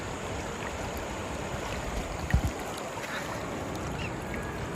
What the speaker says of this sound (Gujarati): જો આ પાણી દોડું રહ્યું